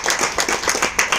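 An audience at a company income-sharing meeting claps in quick rhythmic bursts, a dozen or so sharp, close claps at an even pace with no talk over them.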